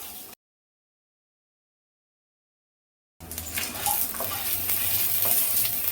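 Stirring and sizzling sound from shallots sautéed in a pan for a pirandai thuvayal chutney, with frying hiss and utensil scrapes after a long gap of dead silence.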